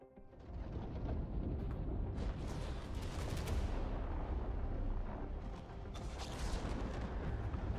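Heavy gunfire and booming explosions in the video game The Expanse roar almost continuously, loud and dense, with rapid bursts layered over a deep rumbling blast.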